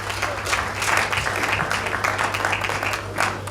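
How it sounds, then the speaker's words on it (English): Steady applause from an audience at a graduation ceremony keynote address, a dense continuous patter of many hands clapping over a low background hum. "And I think this deserves a round of applause."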